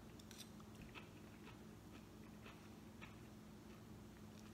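Crunchy chewing of heart of palm and zucchini pasta from a Real Good chicken fra diavolo entrée bowl, a series of close, soft crisp bites and munching without talk.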